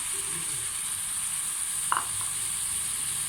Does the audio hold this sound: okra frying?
yes